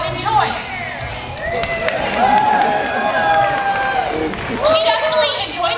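Audience at a sea lion show at Six Flags Discovery Kingdom calling out answers, many overlapping voices shouting and a few claps and cheers rising together in a lively outdoor crowd.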